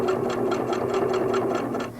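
Singer sewing machine stitching around a quilt border, a steady rapid run of needle strokes with a constant motor hum, close and continuous, with no talking.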